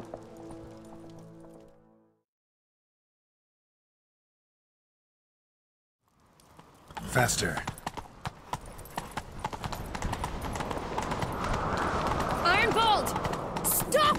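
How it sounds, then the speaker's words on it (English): In The Witcher 3 during a chase on Skellige, a voice speaks briefly, then near silence follows before a horse breaks into loud, rapid galloping hoofbeats that build and continue to the end, with occasional shouting over them. "Grab a horse, we'll chase him down."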